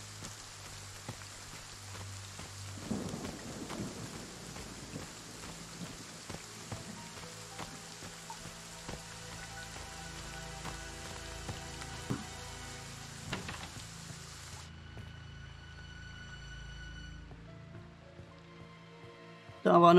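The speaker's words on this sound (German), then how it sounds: "Ach, und es regnet wieder." Rain falls steadily in the Friday the 13th video game, a soft, continuous patter with scattered small ticks and thumps, fairly quiet throughout.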